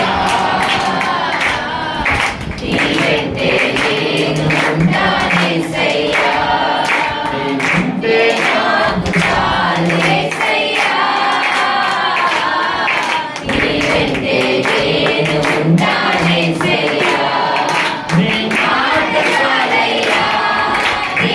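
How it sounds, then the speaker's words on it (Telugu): A congregation at a church thanksgiving service claps their hands in a dense, continuous rhythm, mixed with loud music and singing voices. "దగ్గరగా చప్పట్లు కొట్టు."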